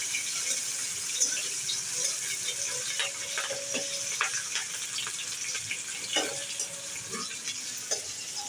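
Garlic and chili sizzling and crackling in hot oil for a kachki fish chorchori, with a steady frying hiss broken by sharp pops and spatters, close and moderately loud, no talk.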